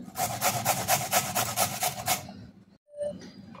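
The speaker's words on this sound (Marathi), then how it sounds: "अर्धा गाजर घेतलेला आहे, इथे बघा अशा पद्धतीने सगळं किसून घेऊयात आपण।" Half a carrot rubbed on a hand grater makes a rapid, regular series of close rasping scrapes, roughly a dozen strokes, ending with a brief pause and a few lighter scrapes.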